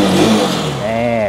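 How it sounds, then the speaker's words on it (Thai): A used motorcycle engine fires up and revs, the pitch climbing and settling into a running note, loud and close, with someone talking over it. "เดี๋ยวสตาร์ทเครื่องให้ดูกันนะครับ"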